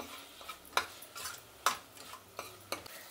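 A spoon stirs tomato with salt and turmeric in a pan: a few distinct scraping knocks, roughly one every second, faint and close, over a quiet background.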